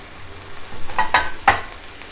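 Oats frying in a pan with onion, tomato, capsicum, green chilli and salt, a low sizzle broken by two or three brief scraping stirs, close and moderately loud.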